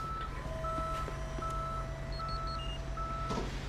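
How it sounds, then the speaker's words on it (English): Repeated reversing beeps sound from a tow truck in Police Simulator over a steady low engine rumble, with a few short high chirps mixed in near the end. "Good job, tow truck."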